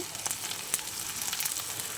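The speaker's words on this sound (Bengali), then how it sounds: "চলো বেশ ভালো করে ভেজে নিই" Soft, steady sizzling of fish roe frying in a pan with aubergine, onion and green chilli, with occasional light crackles and pops, fairly quiet and close.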